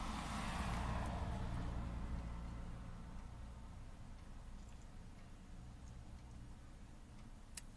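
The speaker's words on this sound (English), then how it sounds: "there's a ton of traffic" Road traffic passes by as a vehicle approaches and swells to a loud whoosh, then fades into a steadier distant rumble of cars with faint ticking.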